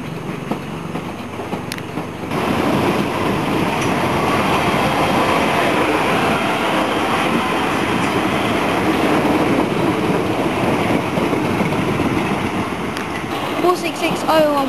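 A Class 456 train in Network SouthEast livery, running a Southeastern service, rumbles along a station platform in a broad, loud, continuous roar, with faint clicks and a few sharper knocks near the end.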